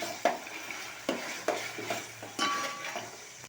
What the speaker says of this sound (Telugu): అల్లం వెల్లుల్లి పేస్ట్ వేస్తాను ఇప్పుడు ఒక్కసారి కలుపుకుందాం